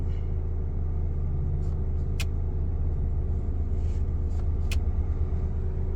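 A Ford Everest Titanium seven-seater SUV cruises on the road with a steady low engine and road rumble, heard from the cabin with a couple of faint clicks.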